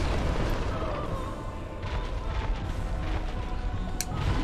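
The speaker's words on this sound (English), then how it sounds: "Oh, that's another explosion." A deep, rumbling explosion in the Dark Souls Remastered video game roars loudly and continuously, with a sharp burst near the end and no speech over it.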